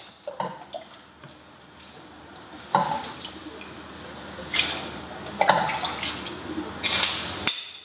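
Chicken stock splashes and trickles over pieces of chicken with herbs in a pot, in several short pours of varying loudness with quieter pauses between.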